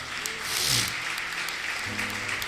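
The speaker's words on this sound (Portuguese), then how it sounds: "Aplauda ao Senhor por essa palavra." A church congregation applauds during a service, a continuous roomy wash of clapping with a few louder individual claps and faint voices beneath it.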